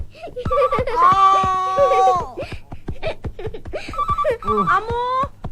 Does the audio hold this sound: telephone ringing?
yes